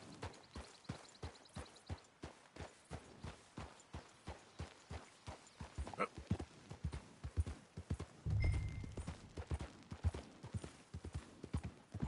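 Horse hooves in Red Dead Redemption 2 clopping in a steady, even rhythm at a walking or trotting pace, close and fairly quiet, with a brief low rumble partway through.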